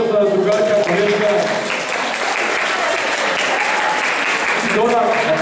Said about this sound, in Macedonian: ја би ја замолил за еден аплауз за вашата другарка, колежка